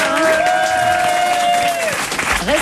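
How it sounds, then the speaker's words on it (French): Studio audience at a French television game show applauding, a dense wash of clapping heard alongside a held electronic tone and brief sounds, with no clear talking. "les gens applaudissent avant, bien sûr"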